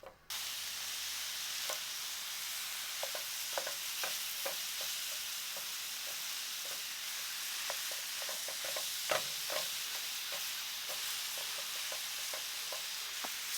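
Meat browning in a carbon steel pan on a burner, a constant soft sizzle broken by irregular scraping taps as it is stirred and broken up, close and moderate in level.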